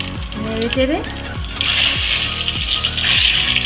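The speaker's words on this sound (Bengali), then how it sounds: "এবার আমি ফোড়নে দুটো শুকনো লঙ্কা দিয়ে দিচ্ছি, একটু তেজপাতা এবং সামান্য জিরে দিয়ে" Dry red chillies, a bay leaf and cumin hit hot oil in a kadai for a Bengali fish bhapa tempering, raising a loud, steady, close sizzle after a voice speaks briefly at the start.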